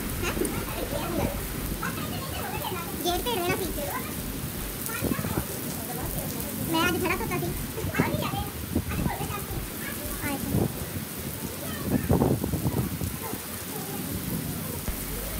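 Heavy rain pours down with strong wind in a Punjab village, a dense steady hiss with thunder rumbling low at intervals, and voices or bird calls faintly scattered through it.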